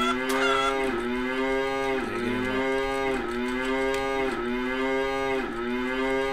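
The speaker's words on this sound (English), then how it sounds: "Oh, we need some cows in here." Cattle in a farming video game moo again and again, each long, loud, close call running into the next in a steady chain with no talking over it.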